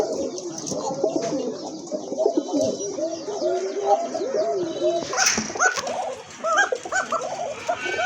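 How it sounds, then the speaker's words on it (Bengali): Arabian koka pigeons cooing steadily in rolling, overlapping calls, fairly close and loud, with a brief clatter midway and no talk. "দেখেন কত সুন্দর ডাক অ্যারাবিয়ান কোকা"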